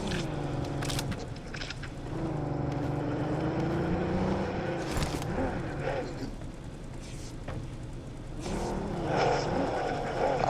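A vehicle engine revs and pulls away in a loud, continuous drone with rising and falling pitch, mixed with clatter and background noise throughout.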